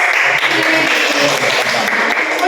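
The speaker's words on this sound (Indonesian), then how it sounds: "Tepuk tangan untuk" Applause fills a primary-school classroom, a dense steady patter of many hands clapping together at an even level for a couple of seconds, with no talk over it.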